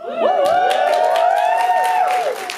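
Audience at a campus comedy show breaking into loud whoops and cheers, high voices rising together and sustaining for about two seconds before fading.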